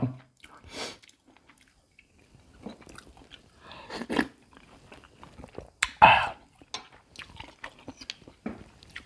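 Close, crisp bites and wet chewing on fried egg with cha-om, an omelette-style Thai dish, recur in short bursts with quiet gaps between them and no talking.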